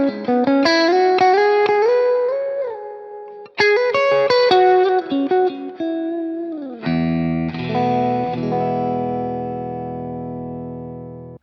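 An electric guitar played through an Amplified Nation Trem Drive Deluxe boutique amp with a mid-heavy Dumble-style tone rings out loud and close in plucked melodic phrases, a brief break, then sustained ringing chords with no talk.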